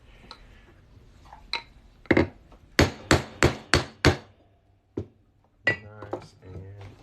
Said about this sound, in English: I'm gonna hammer this on through here.